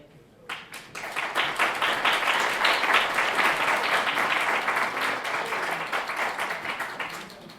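A room full of people applauds after a candidate's speech at a public forum for water reclamation district candidates, the clapping starting abruptly, building into a steady dense patter, then slowly thinning out over several seconds.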